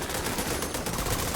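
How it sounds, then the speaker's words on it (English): Assault rifle fire in The Division 2 shooter game, a dense, continuous burst of rapid shots lasting the whole short moment, loud and close with no gaps. "I like to use the AR. I still hit hard though. I love this AR."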